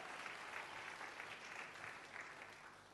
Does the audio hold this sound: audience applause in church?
yes